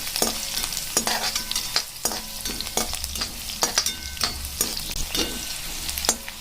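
Chillies, garlic and masala sizzle steadily in hot oil for a methi dry prawn dish, with repeated scrapes and knocks of a spoon stirring the pan, close and clear without speech.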